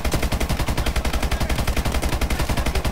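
Sustained automatic gunfire from Call of Duty Advanced Warfare, a rapid, steady stream of loud shots hammering without a break, close and dominant with no talk over it.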